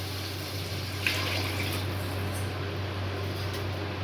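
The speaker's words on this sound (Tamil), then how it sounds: "இப்போ தண்ணி ஊற்றிக்கலாம்." Water pours steadily into a cooking pot during egg biryani preparation, a continuous hissing splash over a low steady hum, close by with no talking.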